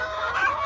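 A local rooster gives a short, close cluck or crow fragment, brief and alone.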